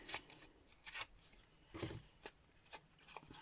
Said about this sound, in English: Just ripping them finely.